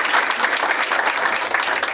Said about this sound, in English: Let's just clap hands for Mzolisi.